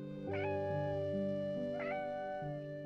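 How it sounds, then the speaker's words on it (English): A cat gives two clear, drawn-out meows about a second and a half apart, close and distinct over a steady low tonal background, with no talking. "They greet you with happy meows"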